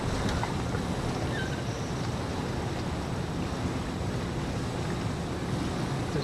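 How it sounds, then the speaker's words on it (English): A boat motor drones steadily over water and wind noise as another boat approaches in stormy weather, a constant broad rumble that stays fairly even throughout. "There's another boat coming up"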